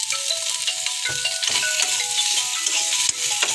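Butter sizzling on a hot tawa as food is lightly fried until browned. A steady close crackle and hiss with occasional stirring scrapes, and no voices.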